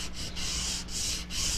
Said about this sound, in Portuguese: na beiradinha onde eu passei a cera, eu venho lixando bem